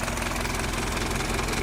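A car engine idles at about 680 rpm with a steady, even rumble and a fine mechanical chatter, close and continuous throughout.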